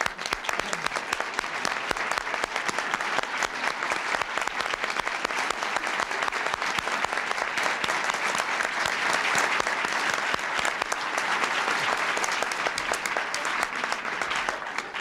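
A large audience at a presidential medal ceremony for the Voyager aircraft crew claps in sustained, dense, even applause that carries on steadily without a break.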